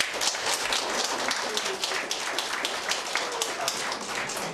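An audience at a kindergarten's 40th anniversary celebration applauds the staff, continuous crowd clapping at moderate distance, an even rattling texture sustained throughout without pause.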